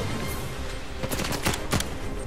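Bursts of gunfire in Uncharted 4: A Thief's End, several sharp shots cracking over a steady background of game noise, with a tight cluster of louder reports near the end and no talking.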